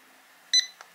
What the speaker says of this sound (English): You're gonna hear a beep.